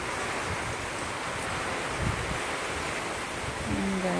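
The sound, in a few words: strong typhoon wind, Typhoon Tino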